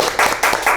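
A studio audience claps to open a Korean political talk show, heard as short, loud bursts of clapping that come in waves under close, brief mic pickup.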